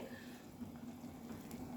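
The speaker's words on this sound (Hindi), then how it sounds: "पानी भी अभी हमारा रोलिंग बॉयल आ गया है।" Water at a rolling boil in a pot with whole spices, left to simmer while preparing rice biryani with jackfruit; a steady bubbling churn, close and moderately quiet, alone.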